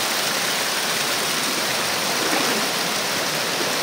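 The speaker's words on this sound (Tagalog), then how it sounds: "Patawid po kami ng tubig." Stream water flows steadily during a river crossing on a jungle trek to a tribal village, a loud, continuous rushing wash with no voices.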